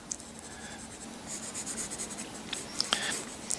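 Scratchy strokes of a soft 2B graphite pencil on drawing paper while rocks are shaded in a rustic campfire sketch, short close scribbles with brief pauses and a few sharper taps, no talking.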